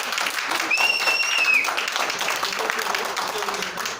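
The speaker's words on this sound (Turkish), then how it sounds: "Daha güçlü bir alkış istiyoruz" Crowd at a company event applauding louder on request, a steady roar of clapping with a whistle cutting through early and voices faintly beneath.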